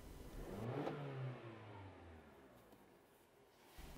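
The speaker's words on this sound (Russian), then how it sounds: "Немного погазуем." Toyota RAV4 4WD with CVT revved while parked, the engine rising sharply in one quick rev, then falling back to a quiet idle, faint and alone.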